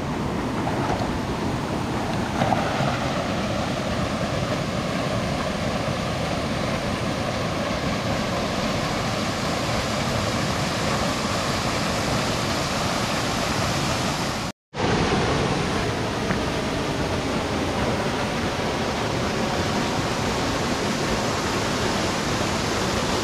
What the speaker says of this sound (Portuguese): Não tem como chegar a um lugar como esse aqui e não se aproximar de uma queda d'água dessa aqui